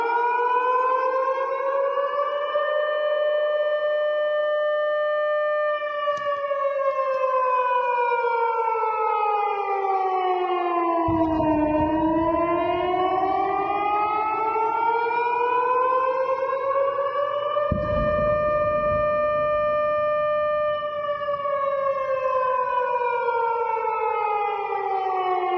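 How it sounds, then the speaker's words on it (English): An air raid siren wails in Belgorod, Russia, a loud, sustained civil defense tone that rises and falls in slow sweeps for the whole stretch, with no talk over it. "Man, that's a spooky air raid siren."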